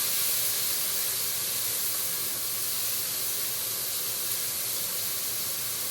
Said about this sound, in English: we're going to saute all this